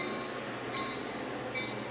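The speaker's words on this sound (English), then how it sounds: "Here comes another train. Yeah, this sounds like a freighter." A freight train rolls past at a steady distance, giving a continuous rumble and clatter with faint metallic squeals of wheels on rail, and no one speaks.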